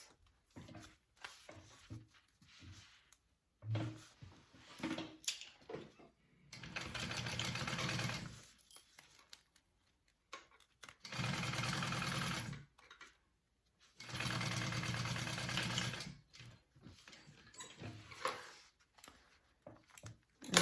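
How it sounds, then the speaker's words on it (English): A sewing machine runs in three steady bursts of several seconds each, stitching handbag fabric pieces together along a seam. Quieter handling noises and pauses fall between the runs. "put them right sides together and we're gonna sew them at a 1/2 inch seam allowance"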